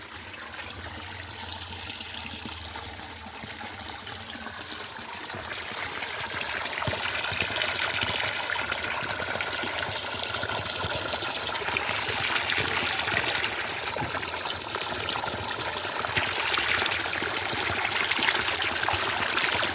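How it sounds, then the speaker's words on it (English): Water trickling and flowing from a spring in a Kenyan village, a continuous close splashing stream that grows louder partway through and then stays steady, with no talk. "See now the spring?"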